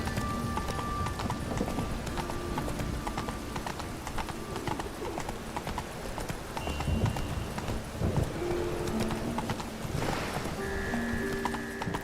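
Horse hooves clip-clop steadily in The Witcher 3 video game, a continuous rhythmic trot over a busy game soundscape with ambient music tones and faint rain-like hiss.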